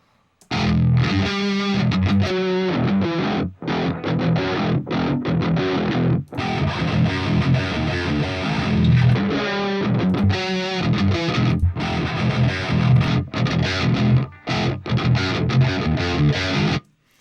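An 8-string electric guitar plays heavy, chugging riffs through distorted amp tones, switching back and forth between settings, with brief silent gaps marking each change; loud and close throughout.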